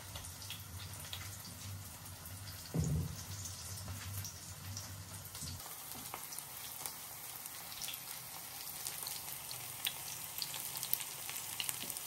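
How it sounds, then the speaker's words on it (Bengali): Radish fritters frying in a pan, a steady faint crackling sizzle like light rain that runs throughout with scattered pops, a brief low thump early on, and no speech. "দেখো কিভাবে ভেজে নিচ্ছি।"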